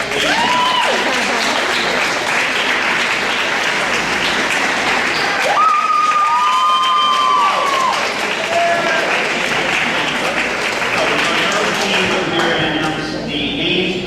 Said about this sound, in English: Athletes, please give your parents as well a round of applause for all the early bus rides.